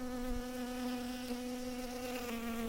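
Steady, dense insect buzzing drones continuously at close range, with no pauses or voices.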